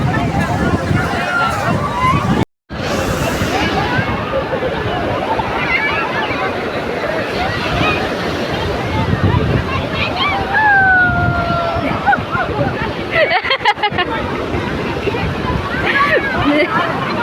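Wind buffets the microphone in a steady, loud rush, with moving water at a river bank beneath it and voices faintly in the background.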